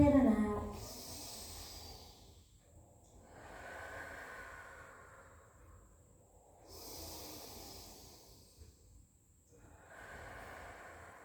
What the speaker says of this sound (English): Again, deep breaths in and out.